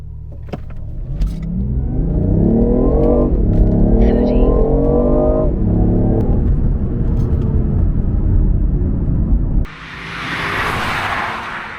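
A BMW i8 in sport mode accelerates hard through several rising gear pulls, engine loud and close, followed by a whooshing rush of wind at the end.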